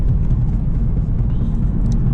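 A car cruises along an empty road in Belgium, its engine and tyre rumble loud and steady from inside the cabin, with no other traffic.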